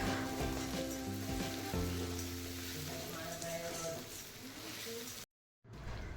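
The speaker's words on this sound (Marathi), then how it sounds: "टोमॅटो टाकलाय, थोडासा मऊ होईपर्यंत परतवून घ्यायचा." Tomato with ginger garlic paste sizzling in a pan, a steady frying hiss running throughout while a person talks over it, with a brief dropout near the end.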